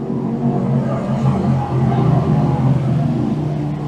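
Race cars accelerate together off the start of a Can-Am Speedway heat, a dense, steady engine roar that builds and holds over the full stretch, with no voices cutting through.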